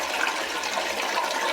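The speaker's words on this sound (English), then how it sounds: "did you pee or take a bath in the toilet? That was a lot of splashing" Water splashes in a toilet in the video game Forgive Me My Love: a continuous, bright, rushing gush that runs unbroken and fairly loud throughout.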